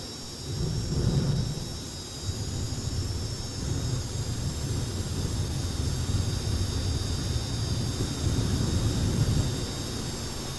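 T55 Lycoming turbine engines on the Dragon Lady pulling tractor at a tractor-pull finals, a steady loud roaring rumble with a high whine that holds continuously throughout and has no talking.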